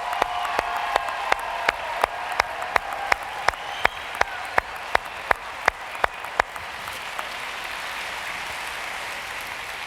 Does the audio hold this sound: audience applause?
yes